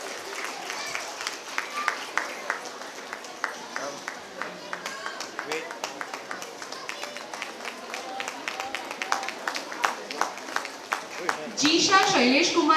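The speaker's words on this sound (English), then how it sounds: "Give a huge round of applause." Audience at a school annual day celebration claps steadily, a sustained patter of many hands with a voice speaking over it, swelling louder near the end.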